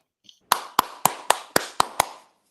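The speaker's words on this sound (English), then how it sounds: "that's a big applause to Ryan Coogler" A single person claps seven times in quick, even succession, close and crisp, after a faint click, honoring Ryan Coogler; no one speaks.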